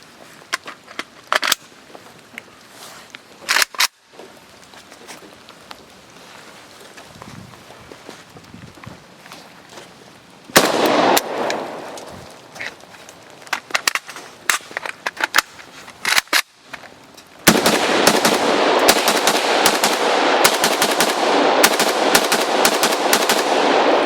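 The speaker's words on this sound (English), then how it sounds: "I'm going to go ahead and fire one round out of this magazine, do a speed reload, and empty the rest of the mag into the remainder of the cinder blocks." AK-74 rifle firing into cinder blocks outdoors, single loud reports and rapid strings of shots, ending in a long sustained burst, close and sharp.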